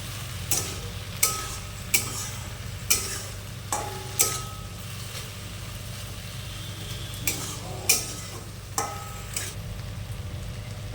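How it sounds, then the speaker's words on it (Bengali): Spice mix being stirred into okra frying in a pan, with a steady sizzle underneath and a string of regular, close spatula taps and scrapes on the pan, no talk. "এবার আমরা ভালো করে এটা মশলাটা মিশিয়ে নেব।"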